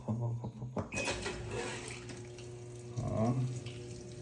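Water running into a washing machine drum on laundry day, a steady rushing flow with a low mechanical hum, starting after a brief click and continuing under faint background sounds.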